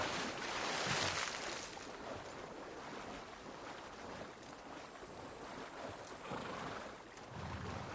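A horse swims through the sea in Assassin's Creed Valhalla, with waves washing and splashing around it, wind rushing, and brief whinny-like snorts rising near the start and end.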